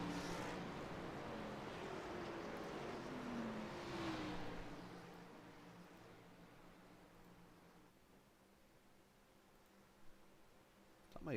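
A car engine at a Talladega stock-car racing event revs and whirs, loud at first with rising pitch sweeps and then fading to a low, distant drone, ending with a brief sharp noise.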